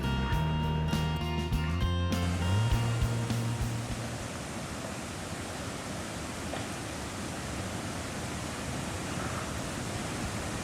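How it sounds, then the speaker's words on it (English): Steady rushing water of a river flowing under a covered Howe truss bridge, a constant broadband roar, preceded by a few seconds of low musical tones that fade out. "the sound of water flowing under the bridge could be heard from this distance"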